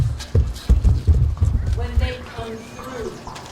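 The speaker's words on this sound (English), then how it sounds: "Grab the reins of the horses." Horses' hooves clip-clop on the ground at a 1775 re-enactment of the women guarding the Pepperell bridge, irregular thuds under nearby talking voices, followed by a horse's whinny.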